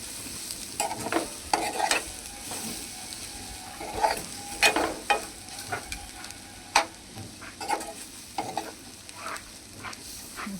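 Egg fry with masala being stirred in a pan, a steady hiss of frying under repeated scraping and clinking of a spoon against the pan, fairly close, with no talking.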